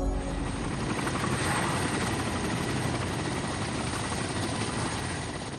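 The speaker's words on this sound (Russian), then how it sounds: "вертолеты, отправленные во Вьетнам президентом Кеннеди, совершили свои первые боевые вылеты против ФНО" Helicopters in Vietnam War documentary footage from 1962, a loud, continuous rotor and engine roar that holds steady throughout with no voices.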